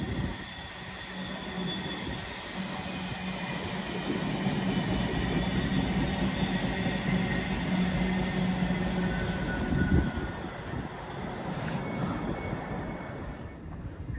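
A London Northwestern Railway Class 730 electric train rumbling steadily along the track, a continuous low drone with faint wheel and rail noise that swells slightly midway and holds close for the whole stretch.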